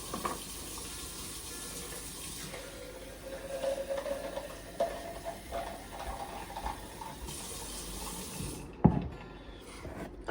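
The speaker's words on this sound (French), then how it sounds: "Ensuite de ça, je mets 400 ml d'eau." About 400 ml of water poured or run from a tap during a home spa session, a soft continuous splashing hiss at moderate distance, ending with a sharp clack near the close.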